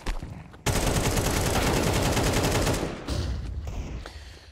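Automatic weapons spray in a Counter-Strike pro match on the Ancient map. A dense, continuous burst of rapid shots lasts about two seconds, then quieter scattered shots and bursts follow, loud and close.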